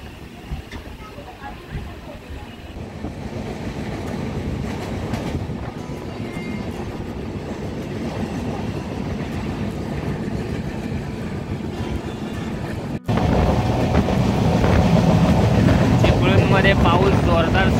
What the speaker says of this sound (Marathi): त्यानंतर आपली गाडी निघणार.